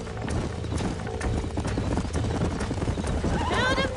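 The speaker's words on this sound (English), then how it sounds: "These are fine horses." Horse hooves clip-clop steadily while a horse neighs near the end, with voices talking over a busy background, in the video game Red Dead Redemption.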